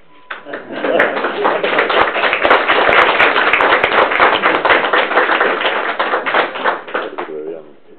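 Council meeting attendees clapping again in the chamber, a dense patter of hand claps for several seconds with voices talking over it, tapering off near the end.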